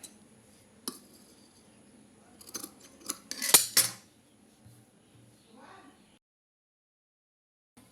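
Scissors snipping collar cloth for a child's round dress, a few scattered clicks and a brief cluster of crisp metallic cuts near the middle, close against a quiet room.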